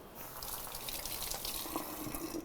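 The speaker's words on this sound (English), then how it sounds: "We literally just picked this rosemary, so I'm gonna give it a quick rinse" Tap water running over a freshly picked rosemary sprig in a sink, a brief steady splashing stream, close and moderately quiet, no talk.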